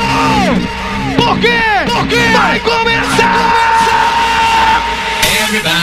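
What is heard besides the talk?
crowd shouting at a carnival bloco party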